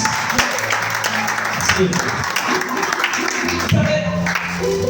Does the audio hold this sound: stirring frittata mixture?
no